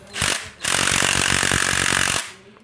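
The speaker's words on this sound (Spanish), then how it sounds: "la pistola la ponemos en apretar y vamos apretando" A pneumatic impact gun tightens hardware on the front suspension of a Suzuki Viva R motorcycle, giving a short burst followed by a longer, loud, rattling hammering that stops abruptly, heard up close.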